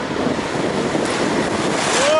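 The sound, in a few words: waves at a beach in Brazil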